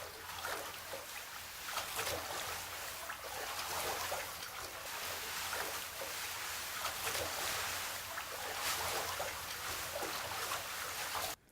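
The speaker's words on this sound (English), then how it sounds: "get the water effects to lay over the top of the beanbag sound that we got before to create a better ocean" Foley ocean waves, built from water effects layered over a beanbag sound, roll as a continuous broadband wash with gentle surging swells throughout.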